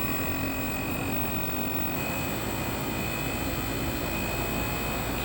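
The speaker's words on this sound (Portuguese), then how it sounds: "Aqui ele já está subindo o ruído. Que a rotação está aumentando." A Consul Inverter bivolt window air conditioner's compressor ramps up, giving a dense, steady whooshing hum with faint tonal whine that gradually grows, continuous and close with no talking.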